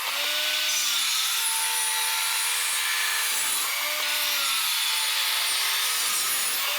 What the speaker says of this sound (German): Ich schneide den ersten Block mal mit der Tischkreissäge weg.